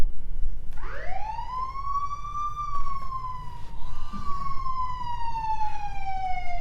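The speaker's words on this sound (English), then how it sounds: "That siren, is that police or a fire?" An emergency siren from a police car or fire engine wails slowly upward and then drifts down in a long sustained tone, moderately distant over low traffic rumble.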